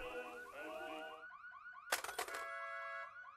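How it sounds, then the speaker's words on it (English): A car alarm wails with rising and falling electronic tones, cycling steadily and fairly loud, with a sharp burst of harsh pulsing tones in the middle before the wailing resumes. "it's just a car alarm."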